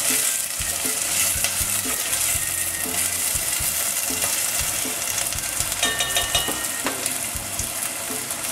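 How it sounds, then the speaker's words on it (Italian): Chopped onion sizzling steadily as it fries in hot extra virgin olive oil, a bright, continuous crackle close by, with occasional stirring scrapes and clinks in the pan and no talking. "Adesso è caldo, aggiungiamo la nostra cipolla che avevamo tagliato a pezzetti"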